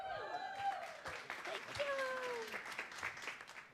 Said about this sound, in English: let's do a 1, 2, 3 clap, shall we? 1, 2, 3.